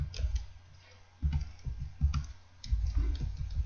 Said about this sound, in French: Je commence à taper le texte.